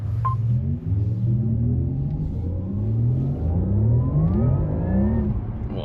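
A 2024 Porsche Taycan Turbo S, a dual-motor electric car, accelerates hard on the Autobahn, giving a steady loud electric whine that rises in pitch over a low road rumble throughout.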